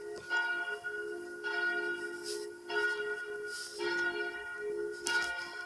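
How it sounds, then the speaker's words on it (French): Church bells of Saint-Pierre d'Alsace ringing in the bell tower, repeated clear strokes about once a second with lingering tones, heard alone and moderately close. "cloches de l'église Saint-Pierre d'Alsace"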